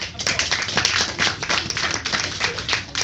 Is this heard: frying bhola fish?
no